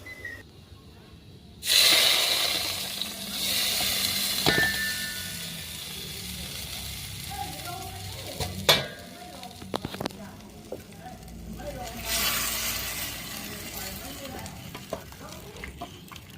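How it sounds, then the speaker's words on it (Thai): Garlic fries in a pan for a Northern Thai mustard-green and pork-bone stew, with loud, bright sizzling and stirring bursts that come in waves and fade between them, plus a few sharp clinks. "เจียวกระเทียมให้หอม ๆ เลย"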